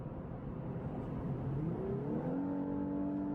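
Lexus LC 500h hybrid coupe accelerating, its engine note rising steadily in pitch as it revs up and then settling into a sustained tone, heard up close from inside with no talking.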